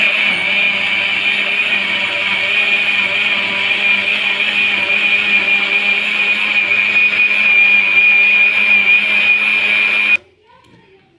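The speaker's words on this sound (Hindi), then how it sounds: "अब ब्लेंडर से हमने इसको अच्छे तरीके से ब्लेंड कर लिया।" A kitchen blender whirs loudly and steadily as it purees plums for aloo bukhara sharbat, a constant motor whine that runs about ten seconds. It cuts off abruptly, leaving faint quiet room sound.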